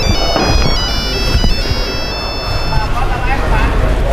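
A phone call's electronic ringing tone repeats in short patterned beeps over a noisy background with voices talking inside a car on a toll road in heavy rain, then stops partway through.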